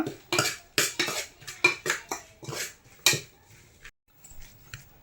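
Spice masala with chili powder, chicken masala and a little oil is mixed in a bowl for bhel puri, a quick run of clinking spoon-on-bowl scrapes and knocks, close and loud, then tapering off near the end.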